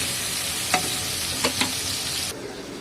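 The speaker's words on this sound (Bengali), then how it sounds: "একটা টমেটোর কেটে টমেটোটা একটু ভেজে নিচ্ছি হালকা করে।" Tomato frying in a pan with a steady, close sizzle, interrupted by a few brief stirring scrapes before the sound cuts off near the end.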